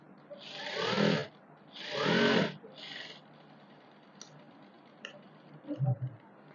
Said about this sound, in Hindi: हम अपनी मशीन को ऐसे उल्टी घुमाएंगे ऊपर की तरफ, और इसी सिलाई पर से हम एक सिलाई और लगा देंगे।